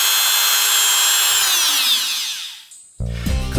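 Rotary tool at its fifth speed setting, about 37,000 rpm, whining loudly and steadily before the pitch sweeps down as it winds off, then a short clatter of handling noise at the end.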